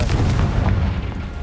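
A single muffled, rumbling blast from the Confringo spell in Hogwarts Legacy, low and booming, with a brief crackling tail.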